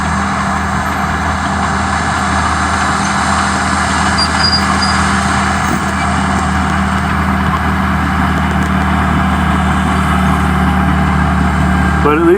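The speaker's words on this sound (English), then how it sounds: "at least it pushes easily with the bulldozer" An 18,000-pound bulldozer works in sandy soil, its diesel engine droning loud and steady up close with a constant mechanical hum throughout.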